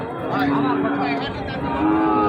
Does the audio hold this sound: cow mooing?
yes